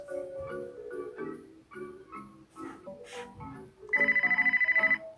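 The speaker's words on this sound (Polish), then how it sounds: "Ojej, telefon mi dzwoni." A melodic electronic phone ringtone plays as a bright, repeating jingle, louder in its final second with a rapid pulsing trill.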